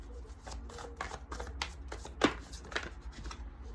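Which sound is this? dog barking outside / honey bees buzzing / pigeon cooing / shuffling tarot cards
shuffling tarot cards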